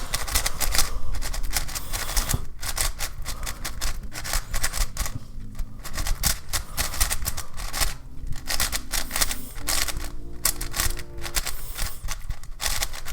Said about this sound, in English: Alright, let's do some first turns.